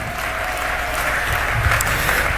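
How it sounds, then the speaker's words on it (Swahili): A congregation at a New Year church service applauds steadily, a dense, sustained wash of many hands clapping together that swells slightly toward the end. "Mpe Yesu makofi mengi kwa ajili ya hayo mageti"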